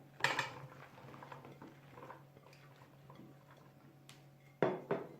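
A metal oven dish is picked up and handled in a home kitchen while making eggplant moussaka, with a few sharp clanks near the start and two louder knocks at the end against a quiet background.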